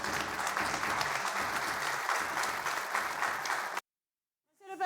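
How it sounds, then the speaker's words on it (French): A studio audience at a French-language talk show claps in a sustained, even burst of applause that cuts off abruptly into silence, followed by a brief snatch of a voice. "Mais applaudissez pour nous."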